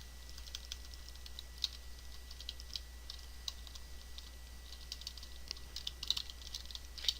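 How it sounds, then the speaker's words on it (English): Password being typed on a computer keyboard during a server configuration session: a faint, quiet run of light, irregular key clicks over a steady low hum, with no speech. "we'll go ahead and type in our password"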